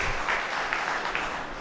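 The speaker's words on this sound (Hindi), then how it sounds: "एक बार जोरदार उनके सम्मान में तालियां बजा दीजिए।" Audience applause rises at a Hindi poetry gathering, a brief, moderate burst of clapping under a steady background hiss.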